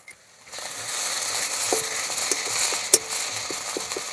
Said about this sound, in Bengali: এবার দিয়ে দেবো 1 চামচ আদা রসুন বাটা,